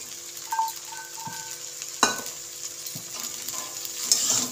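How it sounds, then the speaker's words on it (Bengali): Chopped capsicum, shredded cabbage and peas fry quietly in a pan with a soft, low sizzle. A few scrapes of a stirring spatula and one sharp clink break through the hiss. "এটা আমি ভালো করে ভেজে নেব।"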